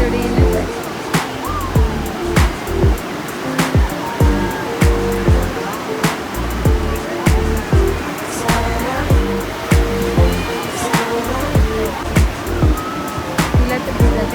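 Ocean waves crashing on the beach at Alibag: a loud, continuous roar of surf with repeated rushing surges close by.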